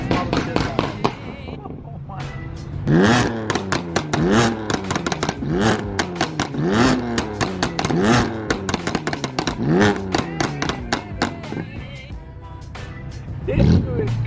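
A straight-piped BMW E92 M3 engine revs hard in a series of sharp, rising blips and crackling pops, loud and close from inside the car, with voices talking over it.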